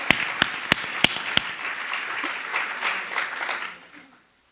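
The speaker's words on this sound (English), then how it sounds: "A huge round of applause for Mili." Audience applause for a Bharatanatyam dancer's Arangetram: a few sharp, separate claps open, then a steady round of clapping that swells slightly before fading out to silence.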